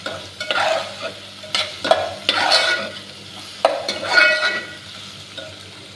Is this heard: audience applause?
no